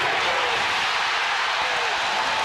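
A basketball arena crowd roars after a Reggie Miller three-pointer, a steady, loud wash of cheering and applause that fills the whole moment without pause.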